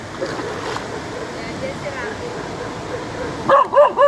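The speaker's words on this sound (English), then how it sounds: "No barking" A dog gives a few sharp yips and barks near the end, after a stretch of outdoor noise with people talking at a river crossing.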